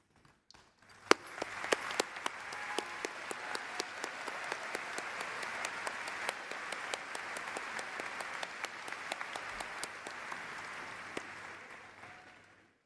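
A large audience at a university undergraduate commencement ceremony claps steadily for about twelve seconds, a dense, even patter with a few sharper individual claps, heard from some distance.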